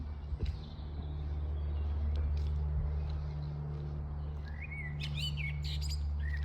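A flock of birds chirps and tweets in a park in the UK, quick high calls scattered through a soft outdoor hum, growing brighter and busier toward the end.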